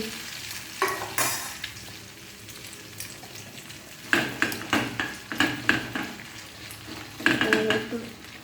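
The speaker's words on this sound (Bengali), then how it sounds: "এখানে ভাজা হচ্ছে পুরো সমান করে দিয়েছি অল্প আঁচে ভাজা হবে" Maggi noodles and egg fry in a pan over a low flame, with bursts of spatula stirring and scraping against the pan over a soft, steady sizzle, close and moderately loud.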